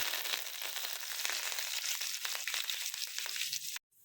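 Coriander hits hot oil in a pan with a steady, close crackling sizzle that holds for several seconds before stopping abruptly.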